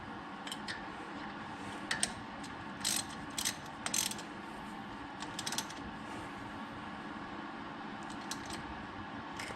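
Ratchet tightening a brake caliper guide pin bolt on a Ram, heard faintly: short bursts of quick metallic clicks over a low background hum, with no talking.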